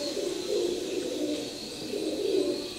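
A pair of young Teddy pigeons of an imported Omani bloodline coo softly and steadily in a loft, their low rolling calls repeating in gentle swells over a faint background hiss.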